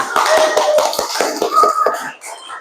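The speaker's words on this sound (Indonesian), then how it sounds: "Kita beri tepuk tangan semuanya" A class of students clapping together after a head-shoulders-knees-feet warm-up, a quick run of sharp irregular claps that thins out and fades near the end.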